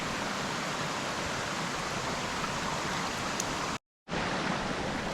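Whitewater river rapids forming a wave train rush in a steady, loud, broadband roar of churning water that cuts out briefly and resumes.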